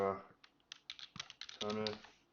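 Keys on a computer keyboard are tapped in a quick, uneven run of light clicks while someone speaks briefly before and after the typing.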